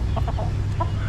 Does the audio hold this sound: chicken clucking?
yes